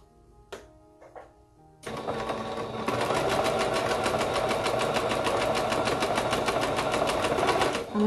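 A sewing machine runs a steady straight stitch around a baby romper garment, its rapid even needle chatter starting after a few faint clicks and continuing loud and close to the end.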